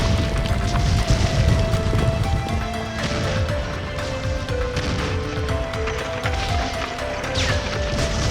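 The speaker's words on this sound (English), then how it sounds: "there was a huge explosion and the roof was destroyed" A huge animated-film explosion blows apart a rooftop during a battle, with a deep boom and crashing debris followed by rumbling, clattering aftermath under a layered score.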